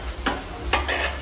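Masala paste for prawns sukka being mixed in a pan, heard as two or three short scraping stirs against a low steady background, with no voices.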